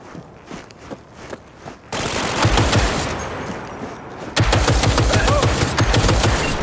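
Gunfire in the video game Cyberpunk 2077: a few scattered shots, then dense rapid automatic bursts in a sustained loud exchange that grows heavier toward the end.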